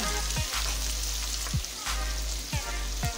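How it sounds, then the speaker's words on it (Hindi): Mutton liver (kaleji) fries on a tawa with a soft, steady sizzle, broken by a few low thuds or spatula knocks about once a second, close and moderately quiet, with no voices. "इसी तरह इसे भूनते जाएंगे"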